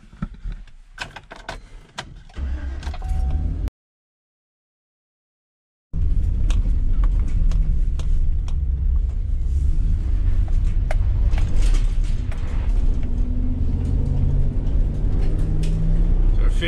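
A work van starts up and pulls away, its engine settling into a loud, steady low rumble of driving after a short gap of silence, with earlier handling and door clunks.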